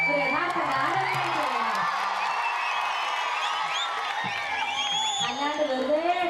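A stage-show audience cheers, whoops and claps in a steady wash of crowd noise, with a voice singing or calling out over the top throughout.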